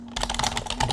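Rapid keystrokes on a computer keyboard, a quick close run of light clicks pattering for about a second with no talking.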